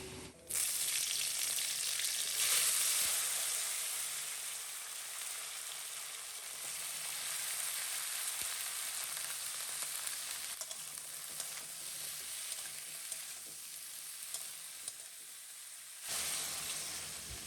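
Potatoes and tomatoes with panch phoron spices sizzle in hot oil in a pan, a steady hiss with occasional light stirring, close up and with no one talking.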